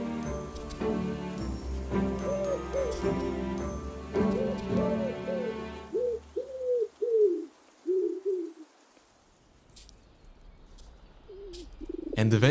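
City pigeons give a run of soft, throaty coos, several rolling calls in a row, close and clear, first under a narrating voice and then alone, with a quiet gap before one last coo at the end.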